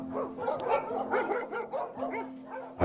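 Hunting dogs bark and yip in quick repeated bursts, moderately close, with a steady low hum running underneath and no speech.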